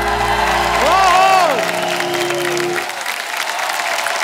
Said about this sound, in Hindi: आप सबकी जोरदार तालियों के बीच आकृति